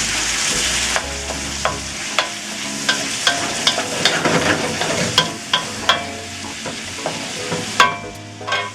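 Diced beef and smoked pancetta sizzle loudly in a pan, with a steady frying hiss broken by repeated sharp scrapes and clacks of a utensil stirring the meat.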